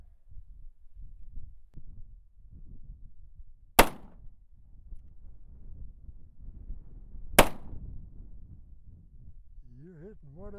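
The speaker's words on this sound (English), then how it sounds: "You're hitting whatever you're shooting at," Two sharp gunshots crack at shooting practice, several seconds apart, loud and near against faint outdoor rumble, with a brief voice at the end.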